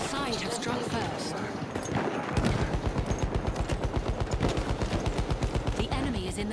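Rapid automatic gunfire in the World War I shooter Battlefield 1, a steady, evenly spaced stream of loud close shots that starts after a couple of seconds of busy battle noise and runs to the end, with voices mixed underneath.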